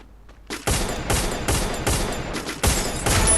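Gunfire in the video game Free Fire: repeated sharp shots and short bursts follow one another at a steady pace, loud and continuous, with no talk over them.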